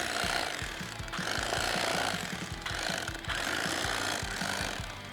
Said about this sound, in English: I just prefer the electric carving knife.